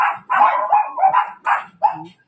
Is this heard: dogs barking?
yes